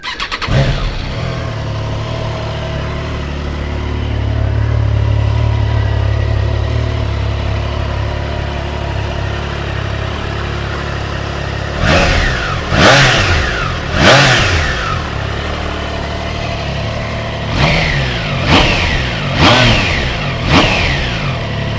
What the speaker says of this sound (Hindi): या फिर चालू करते हैं इंजन की आवाज़ से